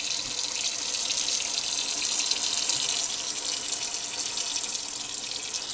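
Water runs steadily from a kitchen tap into a cooking pot, a continuous bright hiss and splash close to the microphone with no voices.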